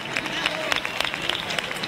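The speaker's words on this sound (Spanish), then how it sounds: "escuchemos esa ovación que se ha iniciado" Crowd ovation during a Holy Thursday procession, with a dense wash of clapping and cheering from a large outdoor crowd, steady and fairly loud, with voices mixed in.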